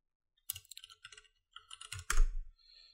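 Fingers type a username on a computer keyboard: short bursts of close, crisp key clicks with brief pauses between groups, ending in a louder, heavier keystroke.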